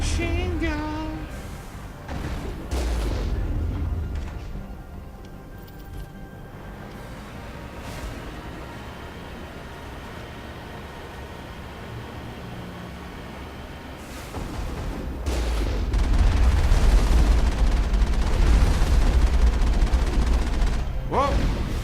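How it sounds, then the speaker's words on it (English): Machine-gun fire in Mass Effect comes in dense, sustained bursts with a thick combat rumble. It grows louder and more continuous toward the end, and a voice is briefly heard. "Sniping with machine gun."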